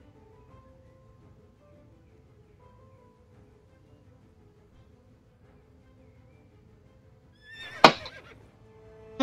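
A horse in the game Star Stable lets out one loud, sharp whinny near the end, after a long quiet stretch of faint ambient rustle and soft background tones.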